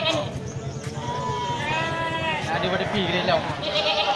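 Healthy breeding nanny goats, Peranakan Etawa among them, let out several wavering bleats, some overlapping, close by under steady talk from people nearby, with occasional hoof knocks.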